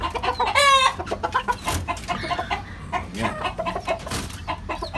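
Chickens cluck and squawk close by around a backyard coop, with a sharp rising call early on and busy overlapping clucks throughout, while a person briefly speaks.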